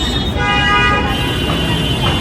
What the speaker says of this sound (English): Y'all hear them honking?